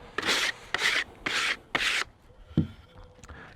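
Sandpaper rubbing along a wooden crate made from building-site waste, four close, rasping back-and-forth strokes in an even rhythm, then a few softer scrapes and taps.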